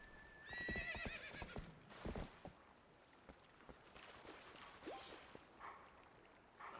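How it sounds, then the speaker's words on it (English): A horse in the Zelda: Twilight Princess video game whinnies loudly with a shrill, wavering call, then its hooves clop in a run of quick, crisp strikes followed by a few scattered, fainter steps. "maybe I'll get my horse and ride there."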